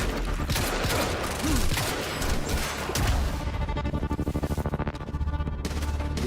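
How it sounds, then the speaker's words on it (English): Shotgun blasts and gunfire in the video game Quantum Break, a dense fusillade of loud shots followed by a rapid, evenly spaced burst of repeated fire, with no talk over it. "Let's kill him with the shotgun first."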